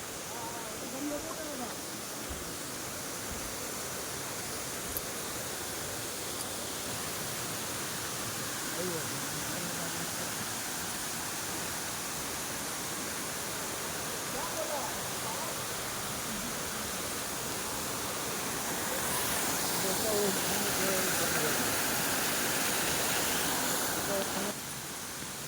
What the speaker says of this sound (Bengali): ঝর্ণার কাছে চলে এসেছি।